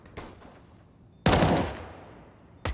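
Shots from a shiny AK rifle in a first-person shooter, a light burst followed by a loud, sharp report with a ringing tail and another shot at the end, heard close and with no talk.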